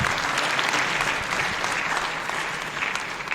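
Audience applause at a Hindi book release event in a legislative assembly setting, honouring a former principal secretary who worked with half a dozen assembly speakers; a dense, steady burst of clapping from a large crowd with no voices over it.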